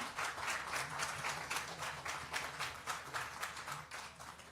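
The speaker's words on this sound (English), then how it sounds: "I suggest we give these two presenters a huge applause" Steady applause from a conference audience for two presenters, dense continuous clapping that fills the whole stretch at an even level with no talk over it.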